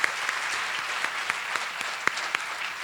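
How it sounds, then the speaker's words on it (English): Applause for a teachers advisory group at a school celebration of excellence, steady crowd clapping with a few louder individual claps standing out. "Round of applause for the Teachers Advisory."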